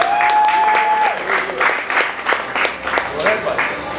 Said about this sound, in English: Perhaps a round of applause for the warrior.